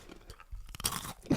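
Crunchy food chewed close to the mic, a few sharp crisp bites and crunches over about a second and a half, quiet surroundings and no talking.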